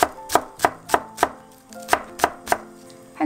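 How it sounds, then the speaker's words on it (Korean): A knife chops green onion stalks on a board in about ten crisp, evenly spaced strokes, close and clear with nothing else around. "파 두세 줄기 정도만 썰어주세요"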